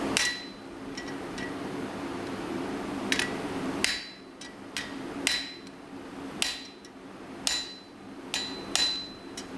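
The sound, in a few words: set hammer used as a flatter on metal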